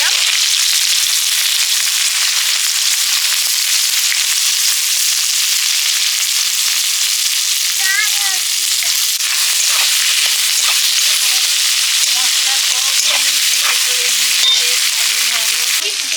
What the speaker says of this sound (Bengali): ফোড়নে দিলাম শুকনো লঙ্কা আর গোলমরিচ গোটা গোলমরিচ আর তেজপাতা পেঁয়াজ